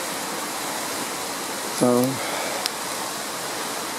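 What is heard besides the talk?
Goose Creek roaring after heavy rain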